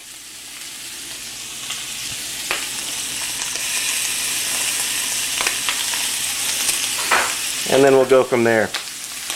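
Jumbo prawns fry in a hot pan, a steady crackling sizzle with occasional sharper pops and clinks, while someone speaks briefly near the end.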